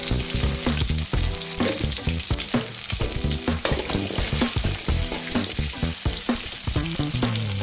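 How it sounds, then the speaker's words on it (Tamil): Onions sauté with cumin seeds in a pan for an okra curry, making a continuous close sizzle and crackle beneath a rhythmic, tonal musical layer that runs throughout. "வெங்காயம் நல்லா வணங்கிருச்சு."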